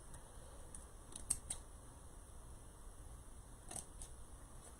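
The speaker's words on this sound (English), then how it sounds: "I've got a little bit of a fray of mesh hanging in here. I'm just going to trim it off." Scissors snipping off a frayed strand of deco mesh on a bee wreath, a few quiet crisp clicks clustered together, then a couple more cuts after a pause, close and faint with no talking.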